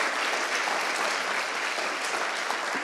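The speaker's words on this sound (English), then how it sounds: "Again, round of applause for the speakers" A business conference audience claps in sustained, dense applause that stays steady throughout with no speech over it.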